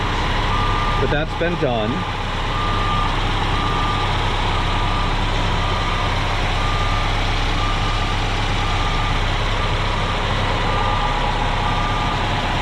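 A nearby truck backs up with evenly spaced reversing beeps repeating over a steady engine rumble, while someone speaks briefly early on.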